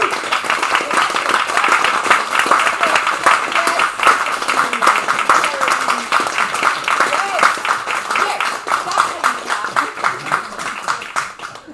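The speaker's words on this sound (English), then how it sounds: "Clapping like one hand has offended the other." An audience at a poetry reading in the Leeds Library applauds, a dense burst of many hands clapping that holds steady for several seconds and then slowly thins, with some voices mixed in.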